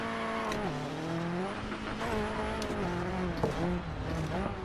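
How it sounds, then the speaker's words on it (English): A turbocharged Group B rallycross car in DiRT 4 roars continuously at high revs, pitch sliding up and down with gear changes and throttle lifts, loud and close with no talk. "You have to stay on the high revs to get the most out of the turbocharged engine."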